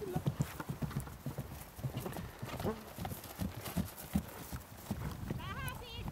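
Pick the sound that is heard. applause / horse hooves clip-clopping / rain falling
horse hooves clip-clopping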